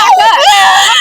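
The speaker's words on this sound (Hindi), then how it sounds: "बच्चा चिल्ला" A child screaming loudly and continuously at close range, a strained wailing cry that fills the whole moment without pause, amid distress in a poor settlement hit by a fire.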